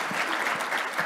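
A short burst of steady audience applause, many hands clapping together at moderate volume, at a business forum.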